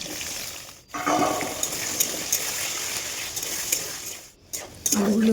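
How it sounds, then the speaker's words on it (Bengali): Potato pieces frying in hot oil in a home kitchen, a steady loud crackling sizzle with a couple of brief gaps and a clink of a utensil near the end. "এবার ওই তেলে আলুগুলো ভেজে নেব।"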